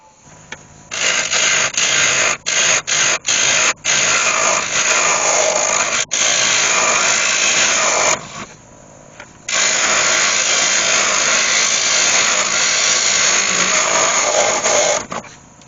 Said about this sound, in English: I'll do that with my hollowing tool.